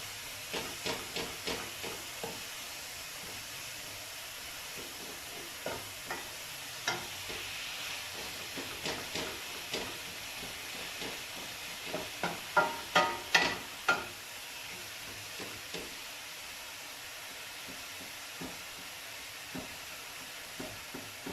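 Ground pork for spring rolls stir-frying in a pan, a soft continuous sizzle with repeated scraping stir strokes, clustering into a louder burst partway through before settling again.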